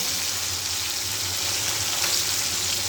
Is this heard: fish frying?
yes